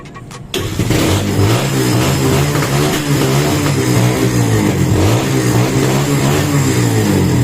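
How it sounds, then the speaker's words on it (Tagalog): A Kawasaki Barako 175 motorcycle fires up after a single kick start, then idles loud and close with a steady, slightly uneven engine throb that fills the rest of the clip. No one speaks. "pagka nag kick starter ka, one click lang, umaandar ko."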